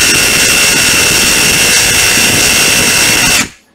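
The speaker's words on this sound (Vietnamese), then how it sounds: "Đó, tiếng búa rất là đã nha mọi người." A cordless brushless hammer drill runs loud and steady for over three seconds as a continuous high-pitched whine and rattle, then cuts off abruptly with a brief spin-down.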